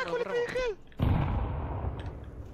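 Gunfire in Counter-Strike 2: a sharp shot cracks in after a voice speaks, followed by a noisy burst and rumbling decay, loud and close.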